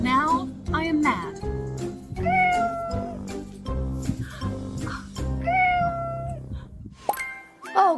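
A pet cat meows repeatedly in rising and falling cries close by, interleaved with a voice and light musical tones in the background.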